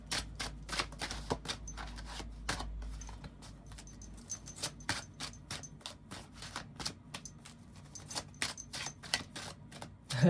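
Tarot cards being shuffled, a rapid papery riffle of close, soft clicks and flutters that runs steadily throughout with small bursts, alone with no voice.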